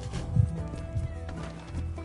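Horse neighing and hooves in Red Dead Redemption 2, with short snorting whinnies and a few soft hoof thumps, fairly close.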